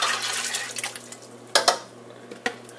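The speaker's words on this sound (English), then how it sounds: "Now it's time to add our gumbo mix, and I've already mixed that up. I'm adding it to the pot." Liquid gumbo mix for a seafood gumbo with shrimp, crab and sausage splashes and trickles into a cooking pot, with a few louder wet splashes near the end and no talking.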